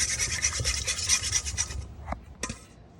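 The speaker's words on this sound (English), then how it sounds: "I'm going to use a whisk to break the egg and whisk it all together." Wire whisk beating an egg in a large mixing bowl: fast, steady scraping swishes for nearly two seconds, then a few separate clicks and taps against the bowl.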